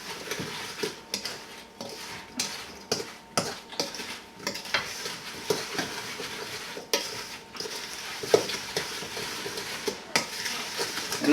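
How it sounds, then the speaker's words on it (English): Apple pie filling with sugar and nutmeg being stirred in a bowl, with a rhythmic series of wet scraping strokes and soft clinks of a utensil against the dish, close-up and steady. "Then what you're going to do is just mix all this up."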